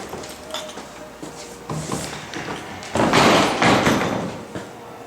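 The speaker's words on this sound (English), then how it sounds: "Don't let the screen doors" Screen door at a historic mill-town house exhibit banging and rattling shut, several thumps and clatters followed by a louder, longer rattling slam near the end, close by with no talk.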